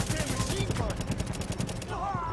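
Automatic rifle gunfire in The Division, during the Lincoln Tunnel mission, rattling in dense rapid bursts that run through the whole stretch, with game sounds mixed in and a voice near the end.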